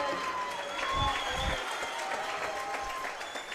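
Lacrosse crowd at the Memorial Centre in Peterborough applauds during a junior playoff game, a sustained clatter of clapping with crowd murmur beneath, swelling briefly then holding steady at moderate distance, with an announcer talking over it.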